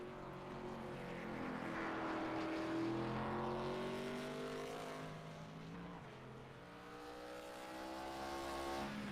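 Race cars lapping the Lime Rock Park circuit in practice for a Pre Legends series, a faint, distant engine drone whose pitch rises and falls as cars pass and shift.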